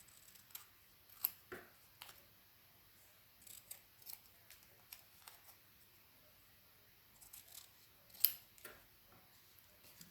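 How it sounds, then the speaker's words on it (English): Scissors cutting packaging tape ephemera close to the edge, a run of quiet, irregular snips and small clicks with pauses between, near and faint. "And that's what I'm just going to cut close to the edge."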